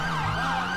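A wailing police siren in GTA 5 roleplay sweeps up and down over a steady engine drone, loud and close for under a second.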